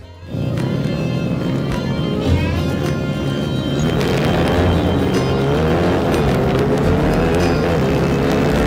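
A racing kart engine buzzes loudly and continuously at close range after a sudden start, its high, rasping whine shifting pitch as it accelerates and other karts join in.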